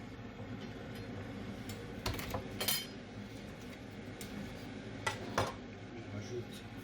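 Garlic crushed in a home kitchen, with a few sharp clattering knocks of utensil against dish or board at intervals over a low steady background hum, fairly close and moderate in level.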